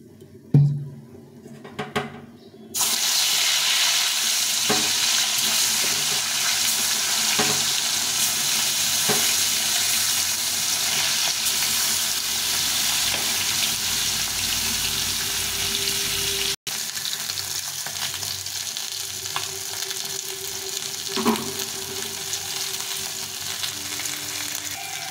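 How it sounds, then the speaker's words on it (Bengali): Pieces of snakehead fish fry in oil in a pan, a loud, continuous close sizzle that starts abruptly after a brief quiet moment and carries on steadily with occasional spatter pops and a short break near the end. "কিছুটা তেল দিয়ে আবার বাকি মাছটা ভেজে নেব।"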